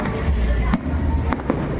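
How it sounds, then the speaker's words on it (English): Loud booming bursts of fireworks in the Philippines, a few sharp cracks standing out over a continuous low rumble and crowd noise. "I promised her fireworks tonight"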